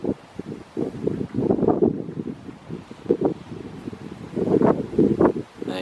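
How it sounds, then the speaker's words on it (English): Blustery wind buffets the microphone beside a small homemade wind turbine in uneven surges, with louder gusts swelling and fading over several seconds. "Gust of wind, trying to get started."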